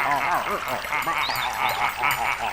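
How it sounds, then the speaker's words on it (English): A flock of flamingos calling from a pond, a dense, continuous chorus of overlapping honking, goose-like calls at moderate distance, steady and busy throughout. "listen, it's coming from that pond. What? A flock of pretty flamingos."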